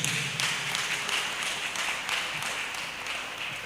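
A church congregation claps their hands in a dense, steady patter with rhythmic pulses, heard from a moderate distance.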